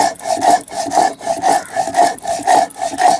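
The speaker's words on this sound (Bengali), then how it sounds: "এখন আদাটা বেটে নিচ্ছি।" Ginger is ground by hand on a grinding stone, with rhythmic back-and-forth scraping strokes repeating about twice a second, close and fairly loud, and no talking.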